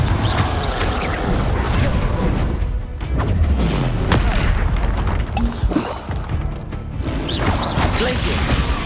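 Confringo blasting spells explode in the video game Hogwarts Legacy, a run of booming impacts and crashes amid combat effects, with a voice calling out spell names over the fight.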